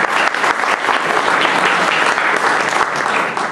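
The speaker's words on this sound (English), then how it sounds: "give yourselves a round of applause because you deserve it" Audience applause at a public talking event, dense steady clapping from a crowd filling the whole moment, loud and close with no voices over it.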